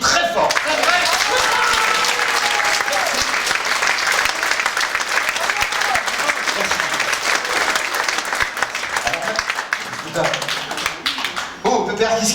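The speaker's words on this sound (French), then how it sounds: "Tout le monde t'applaudit très fort." A cabaret audience applauds a ventriloquist act with sustained, loud clapping that thins out near the end, while voices speak over it at points.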